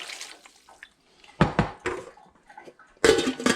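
A tight-fitting lid is set onto a cooking pot of kielbasa, sauerkraut and water, giving a few sharp, close metallic clanks and knocks separated by short pauses.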